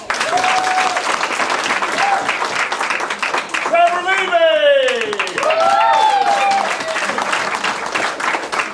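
An audience at a family martial arts belt ceremony gives sustained applause for a newly promoted orange belt, a full, steady clapping wash while a voice calls out over it with short shouts.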